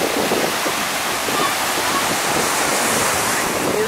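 Sea waves breaking on a beach in Mallorca, a continuous loud hiss of surf rushing and washing close by, blended with wind buffeting the microphone.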